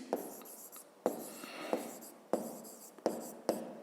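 Pen strokes scratching across paper while working a physics exercise, a series of short sharp scribbles and taps in an irregular rhythm, close and fairly quiet with no talk.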